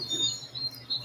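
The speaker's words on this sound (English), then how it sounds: "You hear the birds?" Recorded birdsong played back, thin high chirps and short tweets repeating over a low steady hum, moderately loud and close, with no talking.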